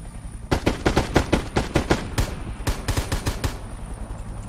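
Rapid bursts of automatic gunfire from the Knives Out video game, a quick string of sharp cracks in clusters of shots, close and loud, with brief gaps between volleys and no talk.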